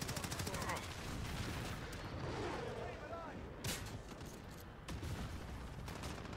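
Dense, near-continuous automatic gunfire and explosive bursts from Call of Duty: Modern Warfare multiplayer, loud and layered, with players talking over the shooting.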